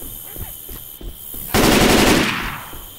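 An automatic shotgun fires in Left 4 Dead 2 at the Dark Carnival fairground. Quieter game sounds come first, then a loud, dense burst of rapid shots lasts about a second and fades into echo.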